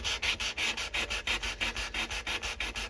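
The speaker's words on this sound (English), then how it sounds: "have to start being careful which direction I sand now" A knife blade sanded by hand, a quick, regular back-and-forth rasp of about five strokes per second, close and steady, with no talking.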